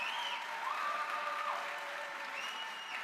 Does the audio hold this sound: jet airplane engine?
no